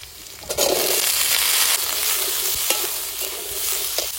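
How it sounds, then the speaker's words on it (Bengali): Potato and green papaya fry in a pan with green chilli, salt and turmeric, giving a steady, close sizzle with stirring scrapes throughout. "এবার সবজিগুলো ভালো করে ভেজে নেব।"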